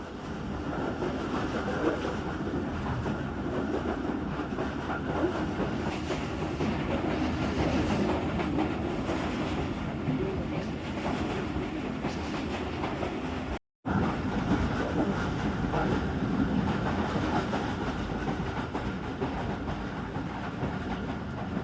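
The Tezgam Express passenger train picking up speed after leaving a station in Pakistan, a dense, continuous rumble with rhythmic clatter of wheels on rails, heard from inside the carriage, with one brief break.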